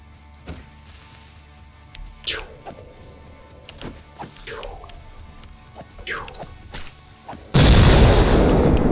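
A creeper exploding in the Minecraft video game: several swooping game effects build up before a sudden loud, broad blast bursts in near the end and stays loud, with talking through the clip.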